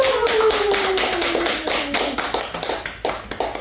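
Clapping rises at a Buddhist Dharma talk, a short patter of claps under a sustained tone at the start, thinning into scattered separate claps near the end.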